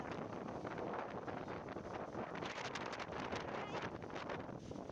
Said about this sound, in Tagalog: ang lakas ng hangin. Parang may bagyo.